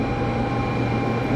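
A Shinkansen bullet train at a station platform gives off a steady mechanical drone with faint tonal whines, a constant hum that holds level without change.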